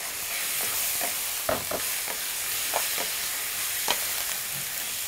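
Five hundred grams of meat frying in a hot pot, a constant bright sizzle broken by a few stirring knocks, close and fairly loud, no speech.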